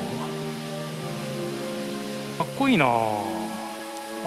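Rain falls steadily at Shōryū-ji, a mountain temple on the Shikoku pilgrimage, as a continuous soft hiss while a voice speaks and exclaims over it.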